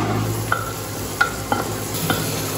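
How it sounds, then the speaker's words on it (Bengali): Spice masala stirred and fried in a pan for ghugni: a steady soft sizzle runs throughout, broken by four or five sharp scraping stir strokes at irregular intervals, close and fairly loud, with no talk. "এবার নাড়িয়ে নেব। এবার মশলাটা ভালো করে কষাবো"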